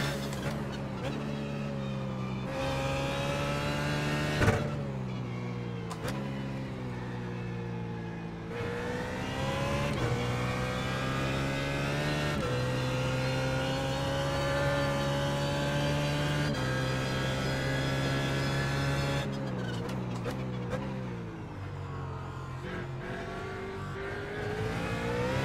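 Simulated BMW Z4 GT3 race car engine at Barber Motorsports Park, loud and continuous, revving up through gears with sharp drops at each shift, the tone rising and falling steadily.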